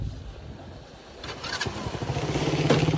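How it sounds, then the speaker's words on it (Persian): A quad bike engine cranks and catches, then settles into a rising, rumbling idle close by, its throb growing louder toward the end. "که موتور روشن کنیم"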